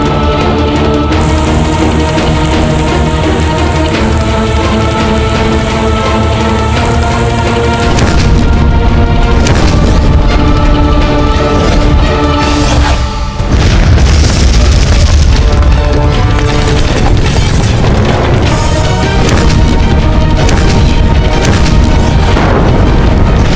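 Akbar's cannons pound Chittor fort in heavy, booming blasts that roll out over a dramatic music score, loud and continuous with rumbling low-end impacts.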